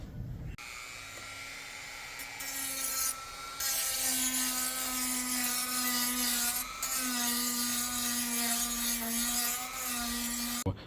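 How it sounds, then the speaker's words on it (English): A high-pitched whine from a rotary tool polishing a surface, the motor's steady hum rising and dipping slightly as it presses and lifts, loud and close with brief interruptions. "Polishing it with the tools."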